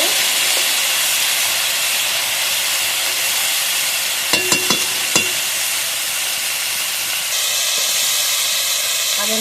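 Ghatkul leaves fry in a pan, producing a loud, steady steamy hiss with a brief cluster of sharp clinks or scrapes midway, close up and unbroken, with no speech.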